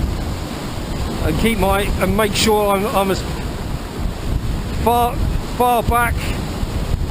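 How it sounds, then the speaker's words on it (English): Sea swell washes against a rocky shore where someone is fishing for bass, with waves surging and breaking in a steady rushing wash under strong wind buffeting the microphone, while someone talks in bursts. "I have got a bit of a swell coming in"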